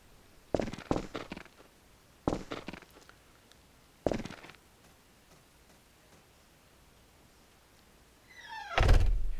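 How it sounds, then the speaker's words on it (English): A wooden door in the Rust video game thuds through repeated open-and-close cycles: three short clusters of hollow knocks spaced a couple of seconds apart, then a longer scraping swing near the end, with no speech. "Here I am opening and closing the door,"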